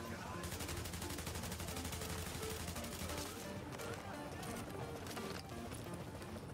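Rapid, dense gunfire from The Division, a shooter game set at a police academy, with an automatic weapon rattling steadily for most of the stretch, loud and close over busy game sound and music.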